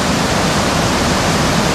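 The 64-metre Salto do Sucuriú waterfall thunders as a dense, steady roar of falling water, loud and unbroken, with no voices over it.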